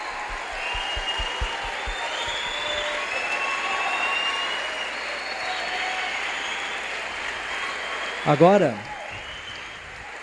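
Lecture-hall audience applause forms a steady, diffuse wash of clapping across the whole stretch, moderate and somewhat distant, with a brief spoken word from a man near the end.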